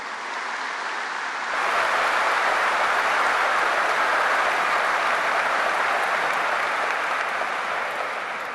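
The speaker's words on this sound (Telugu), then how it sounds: "మన అందరి కరతాళ చప్పట్లతో ఘన స్వాగతం" An audience at a closing ceremony for a 125th birth anniversary breaks into sustained, dense applause welcoming the President, Droupadi Murmu, swelling after a quiet opening and holding steady to the end.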